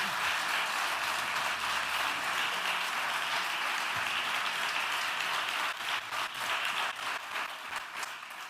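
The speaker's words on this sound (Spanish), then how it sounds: "Y un aplauso" A crowd breaks into sustained applause, steady dense clapping that carries on for several seconds before slowly thinning.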